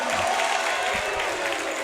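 An away crowd at a high school boys' basketball game, Centennial supporters, roars and claps in a dense, continuous wash of cheering and applause through the brief moment.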